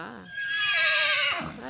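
A white horse lets out a single loud, close whinny lasting just over a second that rises and then shakes downward, with no talk over it.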